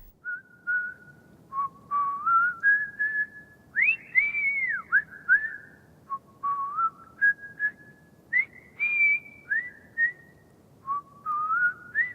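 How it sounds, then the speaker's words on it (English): A man whistles the Blue Danube Waltz melody on a railway platform at Birkenau, a clear, solo tune of sustained and gliding notes in short phrases with brief pauses, over a faint low background rumble and no talking. "Dr. Mengele whistled his favourite melody, the Blue Danube Waltz."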